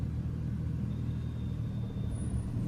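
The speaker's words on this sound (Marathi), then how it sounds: "गाडी वळून त्या साईडला लावून घेतो म्हणजे ट्रॅफिक पण होणार नाही." A car's engine rumbles low and steady as it turns and pulls over to park at the roadside, a continuous close drone with no voices.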